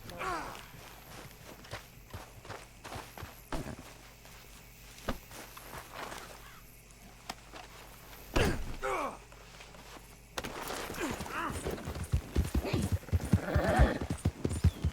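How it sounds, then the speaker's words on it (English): Rhythmic hoofbeats clip-clop steadily as a horse moves along in the video game Red Dead Redemption 2, growing louder and busier near the end, with occasional voices mixed in. "I'll take his horse."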